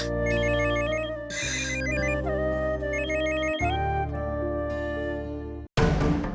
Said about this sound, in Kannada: ಆ ನವೀನ ಇಲ್ಲೇ ಫೋನ್ ಬಿಟ್ಟು ಹೋಗವನೆ